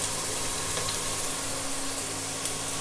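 Turmeric, salt and chili powder sauté in a pan for Bengali muri ghonto, a fish-head and mung dal dish, making a steady, close, unbroken sizzle with no talk.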